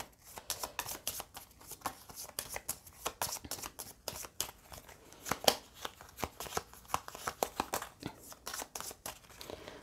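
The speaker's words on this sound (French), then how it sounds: "On mélange toutes les cartes." A deck of game cards is shuffled repeatedly at close range, a steady run of crisp riffling snaps and flicks with no one talking.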